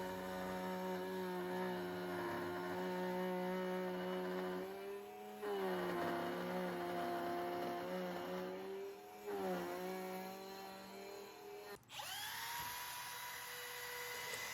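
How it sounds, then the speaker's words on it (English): A trim router fitted with a 1/8 inch roundover bit cuts the top edge of a round wooden cutting board, giving a loud steady high-pitched whine with slight dips in pitch as it bites. Near the end the tone shifts and drops as the router eases off. "I used a 1/8 inch roundover bit in my trim router to ease the top edge of the board here"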